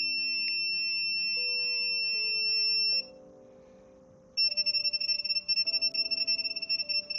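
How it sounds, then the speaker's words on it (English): Repeated electronic beeping from a PS5 console circuit board on the repair bench, attributed to the board's battery. Steady high tones run for a few seconds, stop briefly, then return as a rapid stuttering beep pattern, fairly loud and alone. "I think that's the battery making that beepity beep beep beep."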